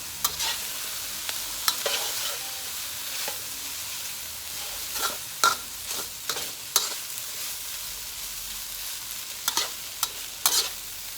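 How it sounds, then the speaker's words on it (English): Brown fried rice being broken up and mixed with other ingredients in an oiled pan: soft background sizzle punctuated by repeated spatula scrapes and clacks against the pan, close and fairly quiet, no speech. "We're going to break up our brown rice and mix all the ingredients together."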